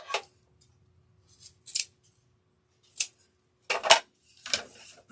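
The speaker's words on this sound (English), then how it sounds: "So I'm going to cut this off." Scissors snip through material for a Memorial Day star wreath, five or six short crisp cuts spaced irregularly over a few seconds, close and clear against near silence.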